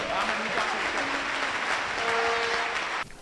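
A church congregation gives sustained, dense applause that fills the space, with voices mixed into the clapping, ending abruptly after about three seconds.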